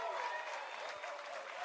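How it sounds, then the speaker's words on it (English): Audience applause rises as a dense, even wash of clapping, heard briefly and at moderate volume with no voices. "I like to give a big round of applause for Joey."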